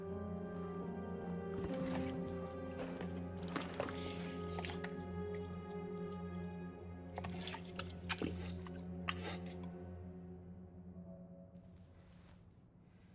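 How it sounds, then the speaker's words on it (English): Wet sloshing and squishing foley from the Silent Hill 2 Remake video game, a popcorn bucket that sounds like water, with irregular liquid splashes and drips over a steady low ambient drone. "That's some really weird Foley sounds for a bucket of popcorn."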